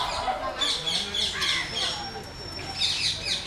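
Birds in an animal shelter's aviary and pigeon enclosure chirp and coo in bursts, moderately close, amid outdoor ambience with some faint background voices.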